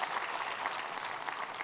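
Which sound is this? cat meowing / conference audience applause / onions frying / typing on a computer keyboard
conference audience applause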